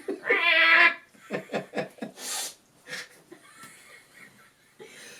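A voice actor imitating a feral cat, producing a loud strained yowl, then a rapid series of short growling snarls and hisses, with breathy laughter-like sounds trailing off at close range.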